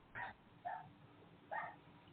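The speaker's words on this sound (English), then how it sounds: "Yeah, but he's barking." A dog barks three short, faint yips in an uneven rhythm, sounding thin and distant as if heard over a phone line.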